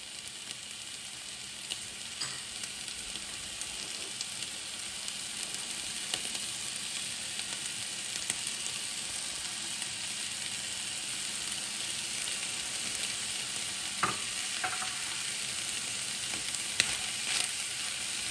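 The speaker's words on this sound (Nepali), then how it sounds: "टमाटो प्युरे राखेर अनि यसलाई हामी एकछिन चलाउँछौं।" Tomato puree sizzling and frying in a pan for chicken keema noodles, stirred now and then with a utensil, giving a steady soft crackle with a few faint scrapes and no talk.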